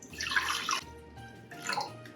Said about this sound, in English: then I'm gonna add a little bit of water